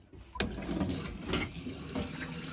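Hot water gushes from a tap aboard a boat in the Algarve with a newly fitted water heater, a continuous close splashing rush with a few louder surges.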